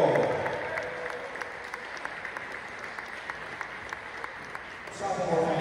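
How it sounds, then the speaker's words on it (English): Audience applause fills a gym at a college basketball game, a steady wash of clapping from a crowd that briefly swells near the end, with speech over a PA mixed in. "how about one more round of applause for Jake McGonigal?"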